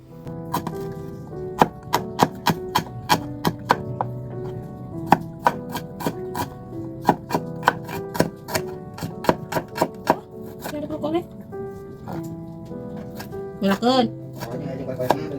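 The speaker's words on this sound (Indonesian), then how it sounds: "Kita pakai bumbu yang simple aja, bumbu iris-iris." A knife slicing shallots, garlic and green tomato on a cutting board for a simple seasoning, giving a long run of crisp, close chopping taps in an uneven rhythm over background music.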